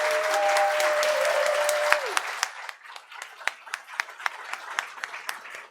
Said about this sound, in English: massive round of applause